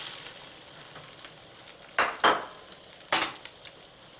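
Turkey drippings poured into a hot pan of reduced white wine, giving a steady close sizzle with a few sharper bursts of hissing and metal pan clinks, no voices.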